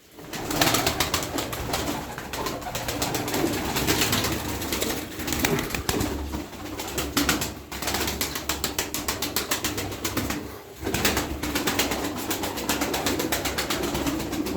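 Dense, continuous bird noise fills the clip, with tumbler pigeons cooing and fluttering close by at steady loudness throughout, no voices.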